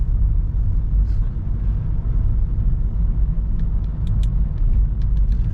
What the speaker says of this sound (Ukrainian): зараз от їду другою передачею